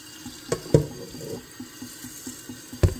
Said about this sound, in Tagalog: Tapos tutubigan mo na.